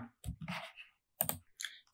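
Typing on a computer keyboard, a few quick bursts of crisp, close clicks separated by short pauses, quiet and with no voices.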